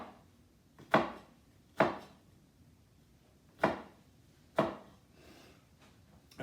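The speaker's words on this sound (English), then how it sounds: "I'm cutting all the way down to the board, but not all the way to the end of the onion" Knife chopping through an onion on a cutting board, four sharp separate thuds with pauses between them, close and alone with no voices.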